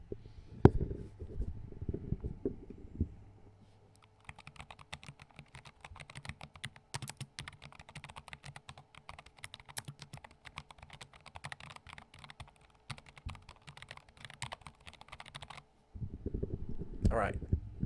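Someone types steadily on a Nomad V1 mechanical keyboard, the microphone lowered close to it. Crisp, rapid key clicks run for about twelve seconds, with a voice talking briefly before and after.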